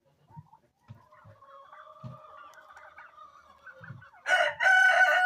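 Turkeys call nearby with soft gobbling and clucking, building to a loud, harsh outburst of calls at the end.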